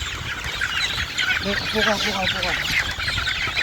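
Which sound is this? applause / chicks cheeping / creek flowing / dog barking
chicks cheeping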